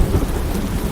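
Thunder and heavy rain from a cartoon storm over a bird's nest form a loud, steady roar of rumble and downpour that fills the short stretch.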